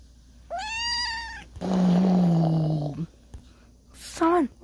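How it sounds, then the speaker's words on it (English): An animated cartoon cat gives a drawn-out meow, then a harsher, noisier cry, and ends with a short, higher meow, all close and loud. "It's a cat."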